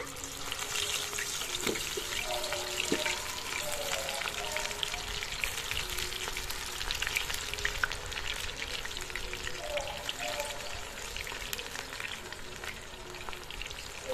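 Cauliflower pieces fry in hot oil with a continuous close crackling sizzle that holds steady throughout, alongside a few faint clinks and no speech.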